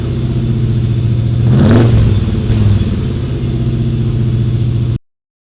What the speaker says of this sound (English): Now let's rev it up for that car show.